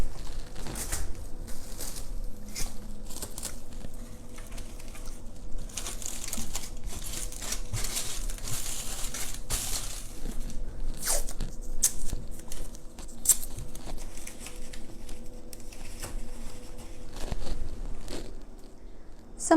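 Plastic wrap is stretched across the inside of a pizza box lid and taped down, producing a close, continuous crinkling and rustling with scattered sharp crackles and taps, without talk.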